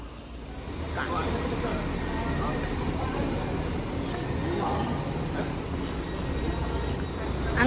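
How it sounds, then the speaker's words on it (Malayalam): A train pulls into a German station on an early-morning run to Saarburg, with a steady, close, low rumble that lasts throughout and grows slightly louder at the end. "അങ്ങനെ സാർബ്രൂക്കിലേക്കുള്ള നമ്മുടെ ട്രെയിൻ വന്നിരിക്കുവാണ്."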